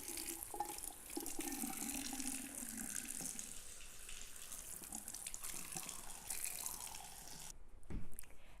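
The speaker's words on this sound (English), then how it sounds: "So the next step that you want to do is we want to rinse them. We want to get that salt off." Salted eggplant slices rinsed under a running kitchen faucet, a steady close splash of tap water into the sink that runs for most of the stretch, with a short louder gush near the end.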